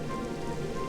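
Steady rain pouring down in the video game Dragon Quest XI, a dense, continuous hiss of drops on surfaces that holds at an even level for the whole short stretch, with no voices over it.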